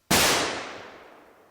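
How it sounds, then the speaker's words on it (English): A single loud gunshot sound effect with a sharp crack and a long decaying tail that rings out for over a second, with no talk over it. "Stop with your gunshot stuff"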